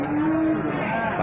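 A single drawn-out low moo comes from Limousin-type cattle at a cattle market in Ambulu, close and loud, among young bulls in the livestock pens.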